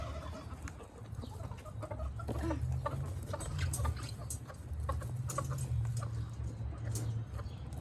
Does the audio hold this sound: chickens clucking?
yes